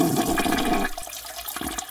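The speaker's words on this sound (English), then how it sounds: "zip up, and flush." Toilet flush in a bathroom: a loud rushing gush of water for about a second, then a quieter trickling refill with small clunks.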